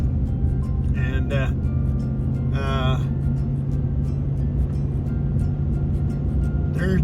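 A car drives up Knox Canyon Road, its engine and tyres giving a steady low rumble throughout while people talk over it.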